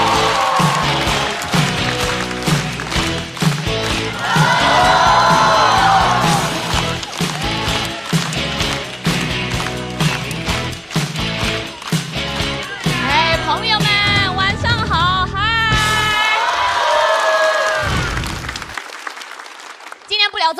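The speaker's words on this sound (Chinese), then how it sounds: "掌声有请 Echo" Applause rises from a studio audience as a stand-up comedian is welcomed onstage at a comedy show. It builds to a loud, sustained wash of clapping and cheering, then fades near the end.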